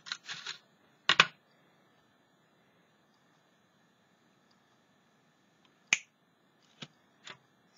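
Scissors cutting paper for a mixed media craft, a few short crisp snips in two clusters separated by quiet, close and fairly faint, without talk.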